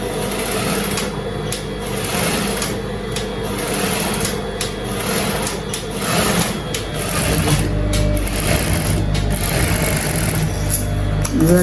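A sewing machine stitches a dress in a home setting, running with a steady continuous mechanical whir and rasp, loud and close throughout with brief variations in pace.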